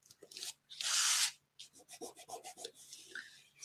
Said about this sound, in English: we're really going to burnish down on top of that sticky tape